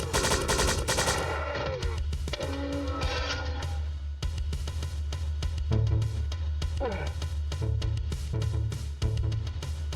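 Assault rifle in the video game Strife, a continuous rapid crackle of automatic gunfire running throughout, loud and close, with interleaved game sound effects.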